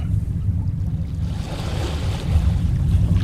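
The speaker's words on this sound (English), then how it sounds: "Across the chasm, the wavelets washed the base of the Cyclopean monolith" Water lapping in a chasm at the foot of a huge stone monolith in the game Dagon, a steady low wash of small waves with a windy rumble, continuous and fairly loud, no voices.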